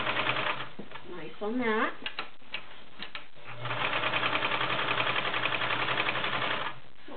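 A White 742 convertible sewing machine stitches through five layers of denim, its steady rapid motor hum and needle clatter running loud and continuous, with a brief spoken remark early on and a pause before the sewing resumes.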